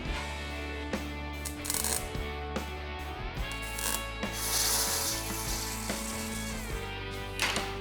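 A 3/16 round rod being cranked through a bead roller in a garage during a 1970s VW van build, giving close squeaking, grinding metal friction with clicks and shifting pitch as the handle turns.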